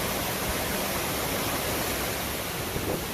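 Cool water pours down at Swan Lake in Hatta, a steady, loud, unbroken rush of falling and splashing water that runs evenly from start to finish.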